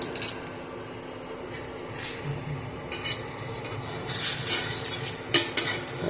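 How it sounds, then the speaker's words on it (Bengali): Breakfast frying in a pan, a steady close sizzle with stirring and occasional scraping or clinks of a utensil against the pan, with no voices. "এই পিঠটা একটু ভাজা ভাজা হলে এই পিঠটা আবার উল্টে দেব।"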